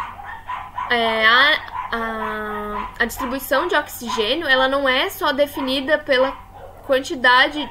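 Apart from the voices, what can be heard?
pet dog barking in the room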